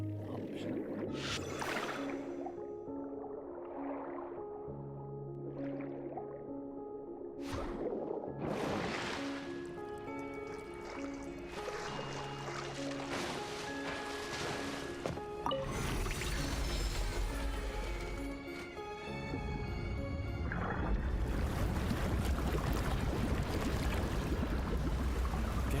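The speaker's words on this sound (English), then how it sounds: "The water level is rising." Water rushing in and rising in a Fontaine chamber in Genshin Impact, a steady flowing wash that swells louder toward the end beneath soft game music.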